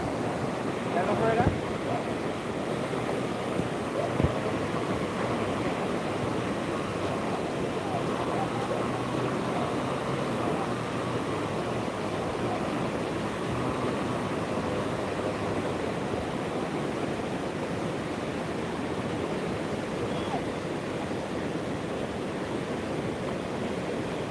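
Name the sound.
Hope River flowing water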